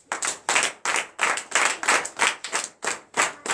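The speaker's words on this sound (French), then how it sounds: "Donne l'acclamation." Church congregation at a night deliverance service claps in a strong, regular rhythm, about ten loud, evenly spaced unison claps in three and a half seconds, close and clear with no talking.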